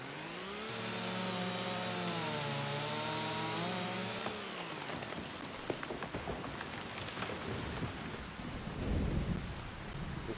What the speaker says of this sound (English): I'm just out here cutting trees in the pouring rain.